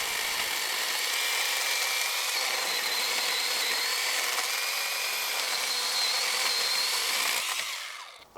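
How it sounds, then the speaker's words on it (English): A small 8-inch battery electric chainsaw cuts through a 3-inch tree branch with a high, steady motor whine and chain buzz lasting several seconds, then dropping off sharply as the cut finishes. "We'll see how well it cuts a 3-inch."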